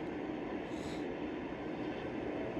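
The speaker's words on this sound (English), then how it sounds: "So let's stop this train." A Lionel model train run with Base 3 control rumbles steadily on its track, a low continuous rolling hum, fairly faint and close, with no voices.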